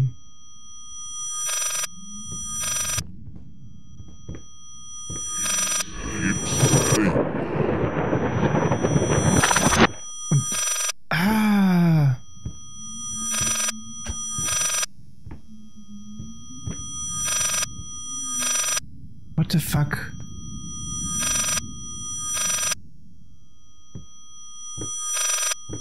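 A telephone bell in the horror game Layers of Fear keeps ringing in short repeated bursts across the whole stretch, broken midway by a rushing noise and an eerie sliding squeal, with low hums between the rings.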